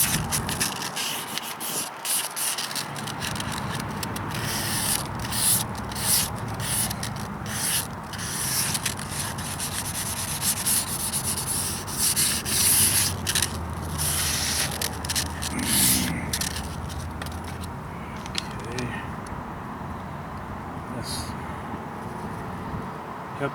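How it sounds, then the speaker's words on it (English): Sandpaper wet sanding a vehicle rocker panel, a steady close rubbing and scraping that continues throughout with small rhythmic variations. "I'm going to go ahead and use this sandpaper, sand it down just a little bit,"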